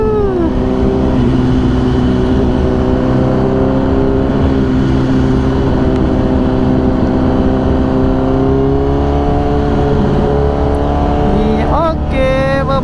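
Honda CBR 1000RR sport motorcycle on a test ride, its engine a loud, steady, close droning hum that holds a constant pitch before a quick rev swells upward near the end.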